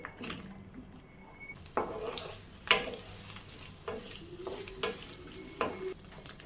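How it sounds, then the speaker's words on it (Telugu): Cut okra goes into a simmering pan for dahi bhindi curry, quiet bubbling and sizzling with several sharp spatula clacks and scrapes spaced a second or so apart, close and fairly faint. "మనం మొదటిగా పక్కన పెట్టుకున్న బెండకాయలు కట్ చేసుకుని ఇందులో వేసుకోవాలి"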